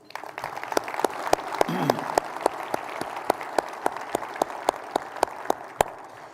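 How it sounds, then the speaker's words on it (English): Luncheon audience applause fills the room as a steady wash of clapping, punctuated by one sharp, regular nearby clapper and a brief murmur of a voice early on. "A round of applause for them, please."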